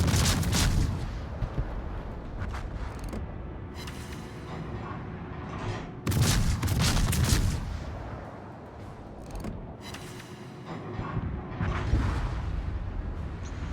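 Warship guns fire in the naval video game World of Warships, a Tier 5 battle with the Podvoisky, giving heavy booming salvos at about six-second intervals over a low rumbling game soundscape, with no talk.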